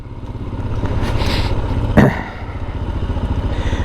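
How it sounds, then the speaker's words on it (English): Royal Enfield Himalayan 411 engine thumping steadily while riding, a loud low pulsing throb with a brief scrape or clatter midway and wind noise over it. "the joys of riding a motorcycle"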